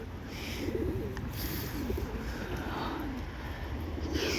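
Soft cooing from a tumbler pigeon, low throaty murmurs rising and falling over a steady outdoor background hiss, close but gentle, with no talk.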